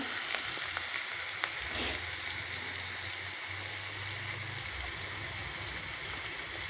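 Onions frying in oil for upma, a dense, steady hiss of sizzling close by with a faint low hum underneath and only a few small ticks, no voices.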